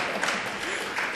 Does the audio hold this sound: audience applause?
yes